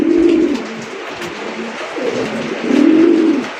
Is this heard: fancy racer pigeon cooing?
yes